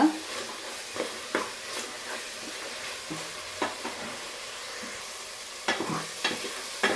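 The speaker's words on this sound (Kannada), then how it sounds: "ನೋಡಿ ಮಸಾಲೆ ಎಲ್ಲ ಎಣ್ಣೆ ಜೊತೆಗೆ ಚೆನ್ನಾಗಿ ಮಸಾಲೆ ಫ್ರೈ ಆಗ್ತಾ ಇದೆ" Masala for mushroom biryani fries in oil with a steady, moderate sizzle, interrupted by repeated scraping stirs of a spoon against the pan.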